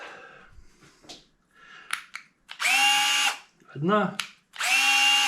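Milwaukee M12 BDD cordless drill-driver whirring in two bursts at different speeds, each a steady loud motor whine, with someone talking briefly in between and clicks from the switch and chuck.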